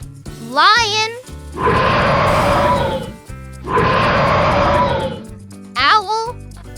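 A lion roars twice in broad, rumbling bursts, each lasting over a second, over cheerful background music, with brief rising voice-like calls before and after.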